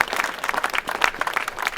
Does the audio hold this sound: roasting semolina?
no